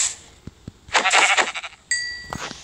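Sheep bleat several times in a video game set on a farm, a sequence of short nasal calls of rising strength, the last one brief and sharp, with no talk over them.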